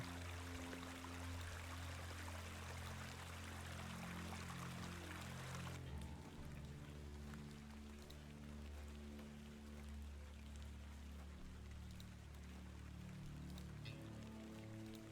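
Steady rain in the point-and-click horror game The Excavation of Hob's Barrow, set in rural England: a dense, even hiss that runs for the whole stretch with low, ominous music droning underneath.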